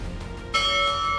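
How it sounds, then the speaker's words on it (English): Church bells of the Dresden Frauenkirche ring out with a sudden loud strike partway through, their sustained metallic tones hanging steadily over a low background hum. "the bells rang once more"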